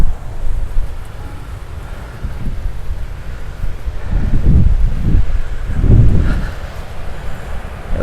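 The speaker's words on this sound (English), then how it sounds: "It's pretty windy here." Gusty wind buffeting a microphone at a beach campsite, low rumbling bursts that swell and ease over several seconds with no other clear sound.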